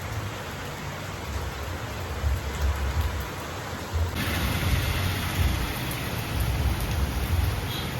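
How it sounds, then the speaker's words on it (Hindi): Heavy rain pours down steadily in a dense, continuous hiss that grows even louder partway through, with no voices over it. "बारिश बहुत तेज़ हुई है"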